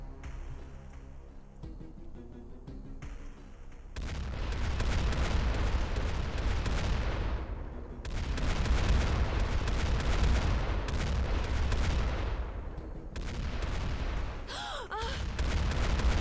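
Rapid gunfire in Xpiratez comes in two long, dense, loud bursts of continuous shooting separated by a short pause, with a quieter stretch before them and a brief break near the end.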